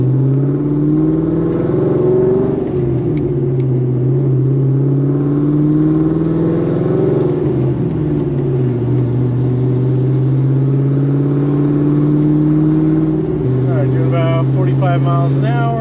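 A Pontiac GTO with newly fitted Wilwood big brakes driving and braking to bed in the pads, a loud steady engine drone with shifting pitch and someone talking over it throughout.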